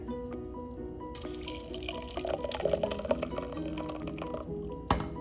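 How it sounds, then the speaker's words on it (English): Blended chili sauce for enchiladas pours through a strainer in a home kitchen, a steady wet trickle with faint drips and clinks, alone without talk. "Pouring the chili."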